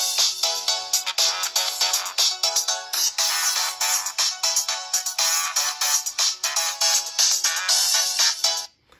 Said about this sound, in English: everyone knows Kalimba, so. That's a common tone.